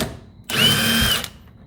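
A power tool spins the shock absorber nut off a 1985 Mercedes 300SD in a loud, close whir lasting under a second, starting abruptly and ending with a quick wind-down.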